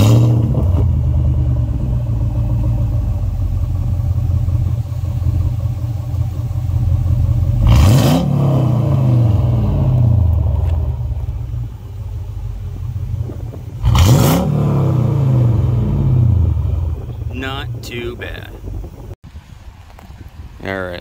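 A Mercedes W202 C55 with a manual gearbox swap runs with a steady engine rumble, rising into two loud revs around eight and fourteen seconds, then a flurry of sharper blips near the end, with wind noise on the microphone.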